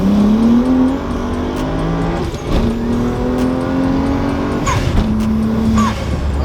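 A BMW 335i with a single exit exhaust accelerates at full throttle in second gear, its loud engine rising steadily in pitch, briefly dipping at a shift, then climbing again up close.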